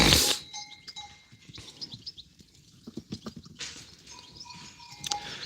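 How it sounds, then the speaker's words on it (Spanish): Goats bleat in short bursts, several calls scattered across the stretch, one loud and close at the start, with faint chirps in the background. "Estas son cabras para pobres."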